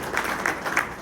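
Brief burst of audience clapping at a Riverside County community meeting, a few distinct claps within a blur of applause at moderate volume, heard for only about a second.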